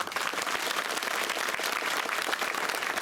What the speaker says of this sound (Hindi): अरे सही है तो तालियां बजाओ मेरे साथ।